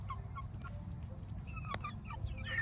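Delaware chickens, roosters and hens together, cluck and chatter in short bursts over a steady low background hum, several birds calling close by.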